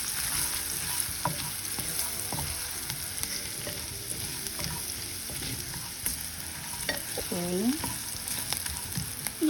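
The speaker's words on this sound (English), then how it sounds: "I will stir it well." Onions sizzle in a pan as they are stirred, giving a steady frying hiss with scraping stirs and brief clinks on top, and one short spoken word.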